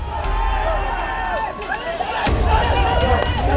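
A large crowd of football fans breaking up after a World Cup 2014 celebration as officers push them back, a loud, dense roar of mixed voices and shouts with a sudden surge partway through.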